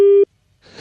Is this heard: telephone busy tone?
yes